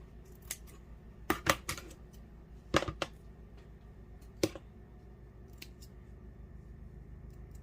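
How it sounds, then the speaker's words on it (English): Scissors snip off excess material from a handmade pumpkin gnome, a handful of quiet crisp clicks in small clusters over a soft background. "you're going to carefully cut that excess off"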